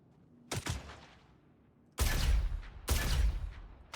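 Turret guns firing in Star Citizen during a bunker mission, one short burst followed by two louder, longer sustained bursts of rapid shots, close and loud with no talking.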